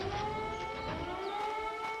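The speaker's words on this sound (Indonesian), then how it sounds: "yang Anda dengar ini adalah suara sirine peringatan aktivitas gunung api" A wailing volcano activity warning siren with steady tones that rise and fall slightly, heard at a moderate distance against a faint background.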